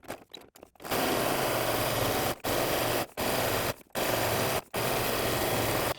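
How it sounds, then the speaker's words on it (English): A sewing machine stitches a quilted tote bag strap in several loud, steady bursts of whirring motor noise, each a second or so long, separated by brief pauses. "we want to stitch 1/2 inch from each edge"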